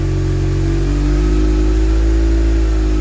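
A BMW R 1150 GS motorcycle boxer engine runs steadily at about 3000 rpm, a loud, close, continuous drone with a strong low hum and even tone and no speech.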